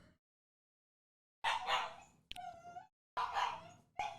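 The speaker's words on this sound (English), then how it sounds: "I'm not going to pet a dog that is misbehaving" A dog whimpers and lets out sharp barks and yips in short bursts after a brief silence, close and fairly loud, with no one talking.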